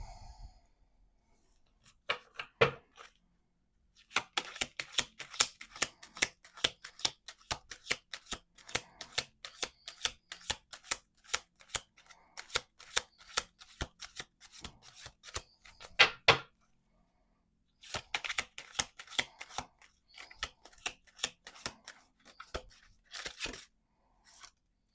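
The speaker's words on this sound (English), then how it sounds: "We're going to do 2 more shuffles." Playing cards are shuffled repeatedly up close in quick riffling bursts of crisp rapid flutters, pausing briefly between rounds in an otherwise quiet room.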